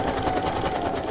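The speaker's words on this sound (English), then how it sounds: "we're going to stitch all the way around" A sewing machine stitches around a paper pocket made from an old book page, giving a steady, fast mechanical whir with no pauses through the short stretch.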